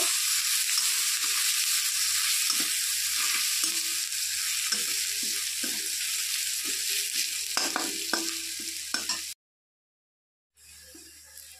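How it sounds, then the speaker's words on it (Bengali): Crushed garlic frying in hot oil in a pan before greens go in, a loud continuous sizzle with scraping stirring strokes that cuts out abruptly near the end, then briefly returns. "রসুনটাকে একটু লাল লাল করে ভেজে নেব"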